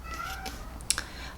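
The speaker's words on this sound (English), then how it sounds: "My cat." A house cat gives a brief, fairly faint meow or two in a quiet indoor room during a makeup session, standing out once against low background hum.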